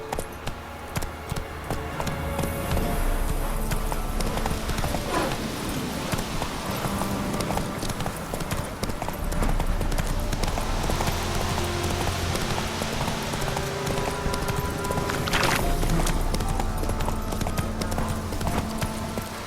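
The horse Roach gallops in The Witcher 3: Wild Hunt with a steady, rapid clip-clop of hooves. The hoofbeats are fairly loud and continuous over a dense game soundscape.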